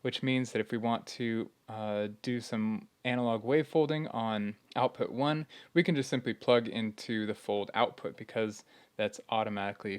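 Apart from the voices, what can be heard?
No distinct noise like a dog, phone or traffic.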